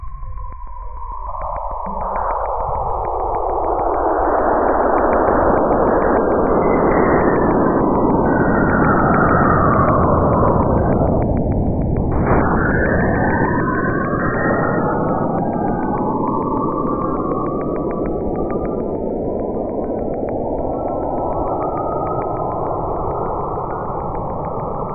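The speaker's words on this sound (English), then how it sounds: "What you hear is a chorus of alien shrieks, high-pitched waves, and eerie pulses." Saturn's magnetic field radio emissions, recorded by the Cassini spacecraft and rendered as sound: a continuous chorus of eerie rising and falling whistling tones and sweeping shrieks over a dense hiss, loud and steady for the whole stretch with no voices.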